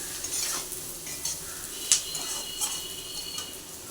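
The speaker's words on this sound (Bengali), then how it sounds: "একটু হালকা লালচে করে ভাজা করব যাতে স্বাদটা খুব ভালো আসে" Gentle sizzling in a pan as pointed gourd paste fries, a constant hiss broken by a couple of light utensil clinks against the metal.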